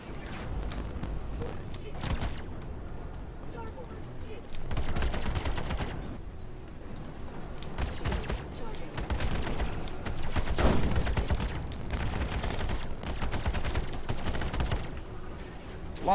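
Weapons on a Super Hornet spaceship fire in the Star Citizen video game during decoupled flight, producing loud, dense, rapid bursts that run almost without pause and swell and fade in waves.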